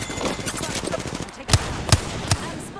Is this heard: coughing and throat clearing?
no